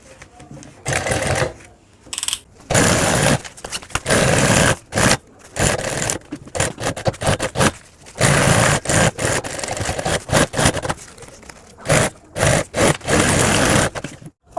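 A sewing machine runs in repeated bursts while stitching school bag fabric, its loud mechanical whir starting and stopping with short pauses in between, close and without talk.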